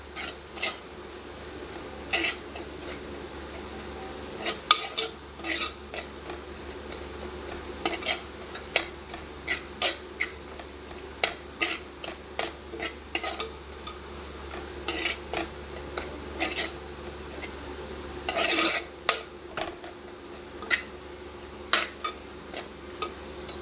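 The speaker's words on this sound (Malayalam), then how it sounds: "വലിയ കഷ്ണങ്ങളുണ്ടെങ്കിൽ ഒന്ന് ഉടച്ചു കൊടുക്കണേ." Tomato pieces in a Kottayam-style fish curry being mashed and stirred in a pan, a long stretch of quiet, irregular scraping and tapping against the metal over a faint background hum.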